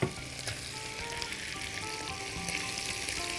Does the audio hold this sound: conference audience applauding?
no